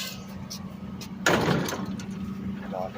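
A repaired metal gate is slid across and folded in, giving one sudden loud clattering rattle that trails off into a hum, with low background voices nearby.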